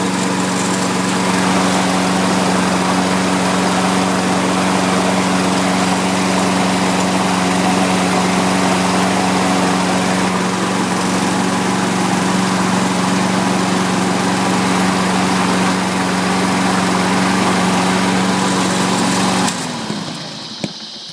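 A Lawn-Boy or Toro self-propelled lawn mower engine runs at a steady, loud drone with a constant buzzing pitch that holds for about twenty seconds before cutting off abruptly at the end, with no voices.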